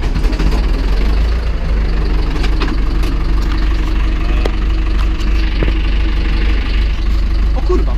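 A low, steady tractor engine idles close by with a constant rumble for the whole stretch, a few faint knocks and clatters sounding over it.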